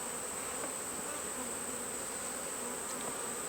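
Honeybees swarm around an open beehive, making a continuous close drone of buzzing wings that stays steady throughout with no voices.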